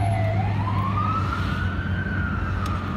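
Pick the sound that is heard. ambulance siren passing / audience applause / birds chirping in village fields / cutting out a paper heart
ambulance siren passing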